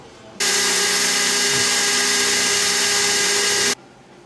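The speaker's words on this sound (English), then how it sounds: "just light pressure, let the drill bit do the work" A power drill whirs at a steady high pitch for about three seconds while repairing a car body kit, starting and stopping abruptly, loud and close, with no talking.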